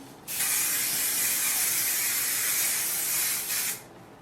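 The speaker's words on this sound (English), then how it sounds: "I'm gonna use some spray." One long, steady hiss of hairspray from an aerosol can lasting a few seconds, close and fairly loud, then it cuts off.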